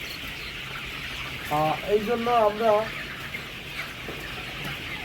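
Colour bird chickens on a poultry farm raised on home-made fermented feed let out a short burst of clucking in the middle, with someone talking before and after against a low background hum.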